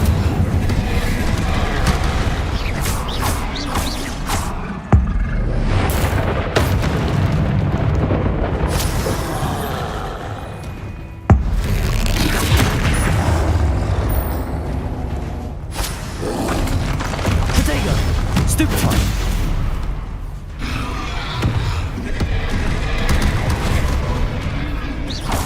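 Magic spell blasts fired in Witch Simulator 2023 land as a near-continuous barrage of heavy thuds and booms, with sharp hits standing out at about 5 and 11 seconds over a loud, dense game mix.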